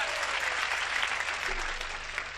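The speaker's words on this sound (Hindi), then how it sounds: "एक बार तालियां बजा दे दोस्तों" A crowd at a Hindi comedy poetry show claps steadily in a close, even burst of applause, with a low hum running beneath and no talking over it.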